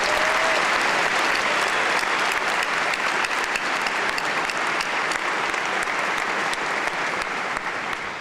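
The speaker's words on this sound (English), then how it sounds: "Can we give him a round of applause?" Audience at a 2004 high school graduation ceremony applauds, a dense, sustained wash of clapping from a large crowd that holds steady for the whole stretch without talk.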